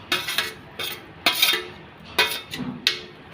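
Sandwich filling with lemon juice and pav bhaji masala being mixed in a bowl, heard as repeated bursts of spoon scraping and clinking against the bowl in an uneven rhythm, close and fairly clear.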